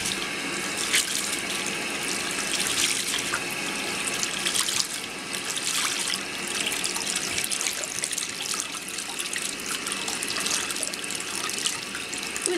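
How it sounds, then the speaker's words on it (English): Warm tap water runs steadily into a sink while a makeup brush is rinsed under it with a thumb, the flow giving a continuous close splashing hiss with small shifts as the bristles move through the stream. "run it underneath some water, some warm water, and just kind of rinse it out with your thumbs and stuff"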